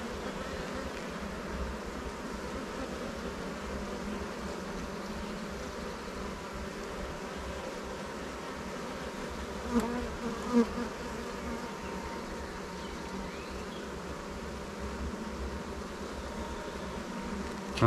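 Honey bees buzz steadily in a dense, continuous drone over open hive frames during a swarm colony inspection, close and even throughout with a couple of brief louder bumps near the middle.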